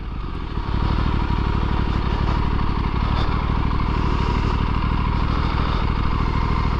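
A 2024 Aprilia RS457 motorcycle being ridden on the road, its engine a loud, steady throbbing drone with a fast pulsing beat and wind rush, close to the microphone and continuous.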